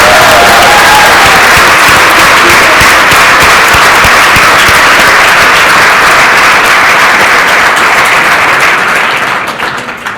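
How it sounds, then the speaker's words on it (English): Big round of applause from an audience for contestants at a business model contest, dense and loud sustained clapping filling the room, holding steady before thinning out at the very end. "I want a big round of applause for what they've done"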